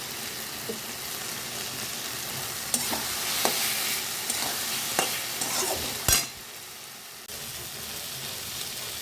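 Fish and eggplant curry sautés in a pan with salt, chaat masala and meat masala, sizzling continuously while a spoon scrapes and taps against the pan at an irregular pace.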